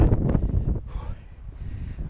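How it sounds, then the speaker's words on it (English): Strong gusty wind buffeting the microphone outdoors, heavy low rumbling gusts that ease after the first second into a softer, steady rush. "the wind just keeps getting stronger and stronger"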